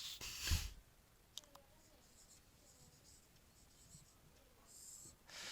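Chalk scratches across a classroom board in short strokes, faint and close, broken by pauses and a soft tap.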